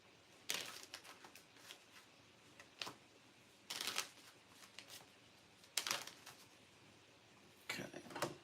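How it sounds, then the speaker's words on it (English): Several short bursts of cards being riffled and shuffled, close by and fairly quiet, with pauses between each riffle. "I had to shuffle my cards"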